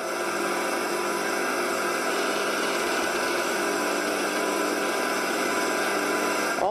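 A homemade wooden lathe's motor runs at its lowest speed, about 1000 RPM, giving a steady, continuous whirring hum at an even level throughout, with no talking.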